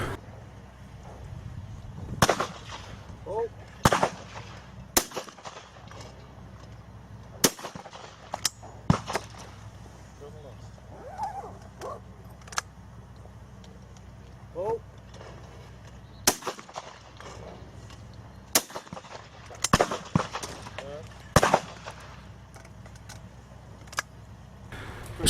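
Shotgun shots at clay targets on an outdoor clay shooting course ring out as sharp, loud reports in pairs and singles, spaced several seconds apart over a quiet background.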